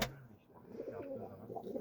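Low, throaty cooing of pigeons fighting close by, continuous and agitated, with a brief sharp thump at the start.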